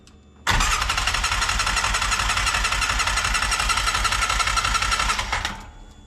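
A 2006 Polaris Ranger 700 utility vehicle, recently fitted with new fuel injectors, cranks and catches abruptly, then runs loud and steady under throttle for about five seconds before the engine noise drops away.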